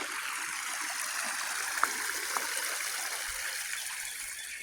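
Water in a creek runs in a steady, even rush at medium distance, with a couple of faint splashes and no voices.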